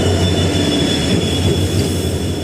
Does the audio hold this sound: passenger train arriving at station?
yes